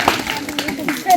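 A group of schoolchildren at a forest outreach session clap loudly in a short burst, with a voice talking over the applause.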